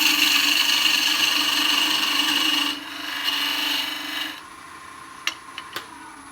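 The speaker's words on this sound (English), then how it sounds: "I use my Bedan tool here, just a straight edge." A straight-edged bedan tool cuts a wooden acorn spinning on a lathe, a loud steady scraping whir that falls off as the cut eases, followed by a few sharp light taps near the end.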